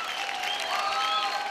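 A television dance-competition audience applauds a dance performance, a continuous wash of clapping and cheering that holds steady for the full stretch.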